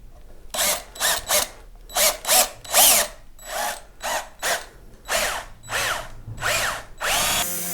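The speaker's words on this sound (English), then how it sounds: "and then we'll start drilling." Power drill boring into a P Bass body, about a dozen short bursts of whirring with brief pauses between, close and loud, winding up and down each time, ending in a longer steady run.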